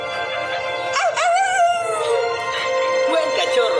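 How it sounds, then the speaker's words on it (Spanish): A cartoon puppy from a children's animated rescue-dog series howls in a long, rising and wavering cry, close and fairly loud, breaking into a second shorter howl near the end over a faint background. "¿me das un aullido, amigo?"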